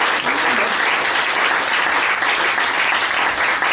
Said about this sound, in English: can I please have another round of applause